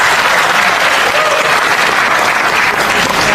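Audience applause filling a room, a loud, dense, continuous wash of clapping from many hands, heard alone.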